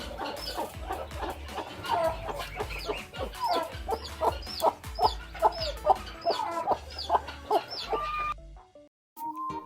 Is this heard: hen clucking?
yes